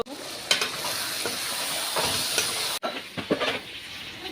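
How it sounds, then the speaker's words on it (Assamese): Local chicken meat frying in a pan, a steady loud sizzle with intermittent spatula scrapes and stirring clatter, briefly interrupted then continuing close up. "তাৰপাছত মাংসখিনি দি ভাজি লোৱা হৈছে।"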